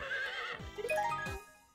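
A horse whinnies in the Miitopia video game, a clear, close, rising and falling neigh followed by a second shorter whinny, with no talking over it.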